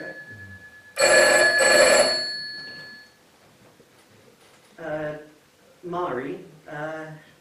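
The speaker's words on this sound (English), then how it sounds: "Oh, your phone's ringing." A telephone bell rings loudly in two long bursts near the start, then stops, followed by a few short spoken phrases in a quiet room.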